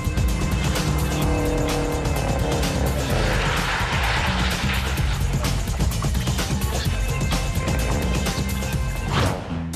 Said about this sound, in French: Marjolaine sort de nouveau de la piste à plus de 100 km/h.